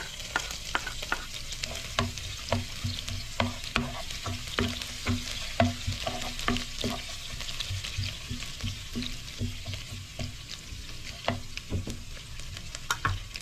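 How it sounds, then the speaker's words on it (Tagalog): Garlic sautés in a pan for beef broccoli, a constant sizzle broken by frequent sharp scraping stirs of the utensil, close and steady throughout with no talking. "Unahin muna natin igisa ang bawang."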